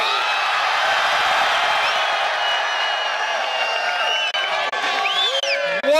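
Large rally crowd in Brooklyn cheering and whooping for Bernie Sanders, a dense sustained roar with shrill whistles and shouts rising toward the end, loud and close.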